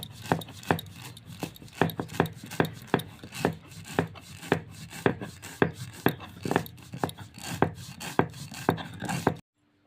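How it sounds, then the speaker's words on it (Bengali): Cucumber being ground by hand on a grinding stone without water, a steady run of loud rhythmic scraping strokes roughly twice a second, close up and with no talk. "শসাটা বেটে নেব, কোনো জল লাগবে না, এইভাবেই বেটে নিতে হবে।"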